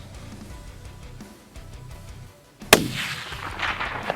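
A single sharp rifle shot cracks out loud and close during a deer hunt in Wyoming, following a quiet stretch, then a broad ringing echo rolls away and hangs over the open ground.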